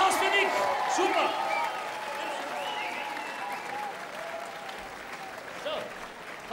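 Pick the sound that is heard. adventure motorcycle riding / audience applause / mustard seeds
audience applause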